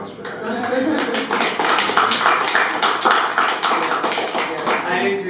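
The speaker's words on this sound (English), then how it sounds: "we should just give a quick round of applause for that" A small interview audience breaks into a brisk round of applause, dense overlapping hand claps sustained at steady volume for several seconds, close and lively throughout.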